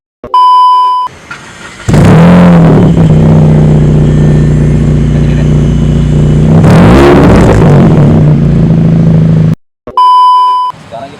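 Modified Honda Jazz GK5 engine revving hard in two long, loud bursts that rise and fall, with short beeps and a brief electronic tone at the start and end, heard close up.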